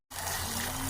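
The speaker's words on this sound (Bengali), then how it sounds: "এবার দেবো জল।" Water pours into a pan of spiced curry for duck eggs with cauliflower and potatoes, starting abruptly after a moment of silence and then running as a steady, close gush.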